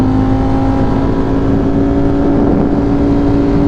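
A Ducati motorcycle engine drones steadily and loudly up close while accelerating to pass a van on the road, with a constant low rumble and wind noise, no speech.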